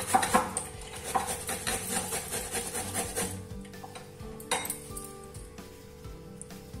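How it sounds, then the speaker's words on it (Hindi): A bottle gourd (lauki) is grated by hand on a grater, giving a run of quick, close rasping scrapes with a faint metallic clink. The strokes are steady for several seconds, then fall quieter and sparser. "कद्दूकस की सहायता से हम इसे कद्दूकस करेंगे, कस लेंगे अच्छे से।"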